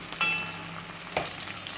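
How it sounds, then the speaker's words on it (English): Fresh herbs sautéing in a pan for a Jamaican corned beef and spaghetti dish, a faint steady sizzle broken by two brief louder clinks or stirs. "I'm going to saute the fresh herbs until translucent."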